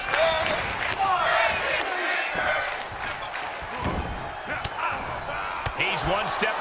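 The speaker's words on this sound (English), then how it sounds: "The sound of this crowd is deafening, and he's asking for more." Wrestling match crowd roar from the WWE 2K22 video game, a loud continuous wall of cheering with thuds and slams from the ring cutting through, with a commentator's voice talking over it.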